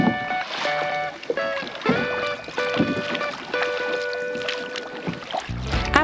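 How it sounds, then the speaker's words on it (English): A canoe is paddled around Simbo Island, with soft, repeated paddle strokes and water splashes at an irregular rhythm under sustained tonal sounds in the background. "we set out with our guide Stevenson, paddling around the island until we reached the volcanic hot springs"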